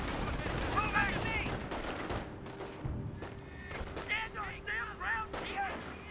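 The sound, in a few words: gunfire in Company of Heroes video game battle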